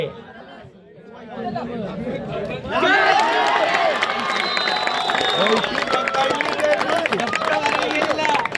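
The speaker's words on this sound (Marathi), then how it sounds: "टाळ्यांचा गजर होतोय" A crowd at a Raigad Premier League final sports match bursts into loud cheering and clapping after a quieter opening, then keeps up a dense, sustained roar of applause and chatter close by.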